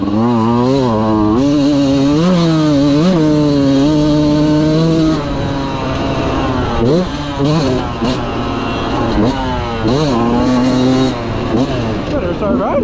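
A 2023 Beta 200 RR two-stroke dirt bike rips around a cross-country moto-style track, its loud, close engine buzzing, revving up and down through repeated throttle bursts and shifts.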